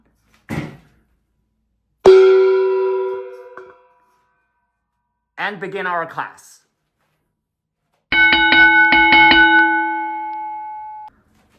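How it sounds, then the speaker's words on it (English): A gong is struck during a classroom lesson: a sharp metallic strike rings out and fades over a couple of seconds. A brief spoken phrase follows, then a second, sustained ringing tone that slowly decays. "So let's ring the gong"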